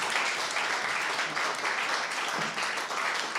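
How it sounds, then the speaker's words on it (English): Steady, dense audience applause fills a live evening pitch show, loud and continuous throughout with no clear voices on top. "Give them a big applause."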